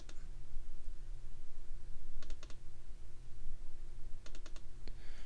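Two short bursts of quick computer mouse clicks, double-clicking at a desk, sound crisp and close over a steady low electrical hum.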